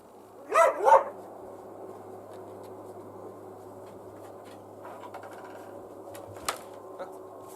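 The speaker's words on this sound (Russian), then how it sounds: "Я сейчас отпущу собак, погуляю с ними." Dogs being let out for a walk outdoors on a frosty day; two sharp barks near the start, then a long, quiet stretch with only faint background noise.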